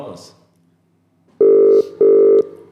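Two loud, even purrs of a phone's outgoing ringback tone on a live call, each lasting about half a second and separated by a short pause, following a moment of quiet after brief speech.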